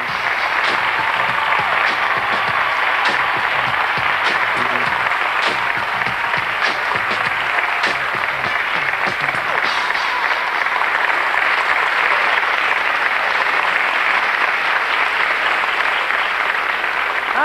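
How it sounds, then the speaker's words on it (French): Audience applause at the Elite Model Look of the Year 1996 contest, a dense, steady wash of many hands clapping that carries on loudly and evenly throughout, with no talk over it. "Mais c'est bien, vous commencez à applaudir là"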